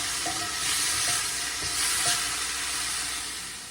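Chopped chives, tomato and parsley sizzling in a pan with a little oil, a steady hissing fry with faint stirring taps, no voices.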